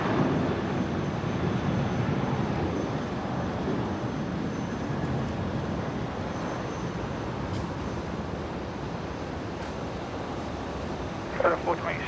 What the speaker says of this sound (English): We've got a departure not far off rotating. Virgin 332 to Melbourne.